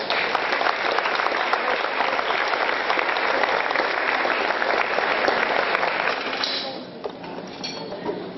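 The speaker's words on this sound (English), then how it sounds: "if we could give them a round of applause" Loud, dense applause from an audience at a high school scholarship awards night, welcoming Board of Education members, sustained for several seconds before thinning out near the end.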